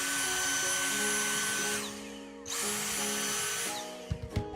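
A vacuum cleaner draws clipped plant debris out of a 3-pod Aerogarden home hydroponic unit, a steady close whine that wavers as the nozzle moves, briefly dips, then ends in a few soft knocks.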